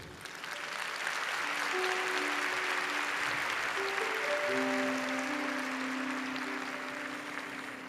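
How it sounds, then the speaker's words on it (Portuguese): A church congregation applauds steadily during a Catholic sermon, a broad sustained wash of clapping from many hands that fills the whole stretch, with faint tonal sounds threading underneath. "Aplaude o Senhor."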